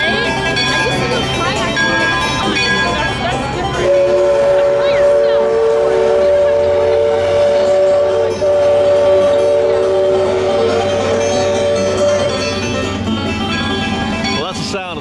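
The steam whistle of the Mark Twain riverboat at Disneyland sounds a long, steady tone across a busy park, mixed into crowd noise and nearby voices talking.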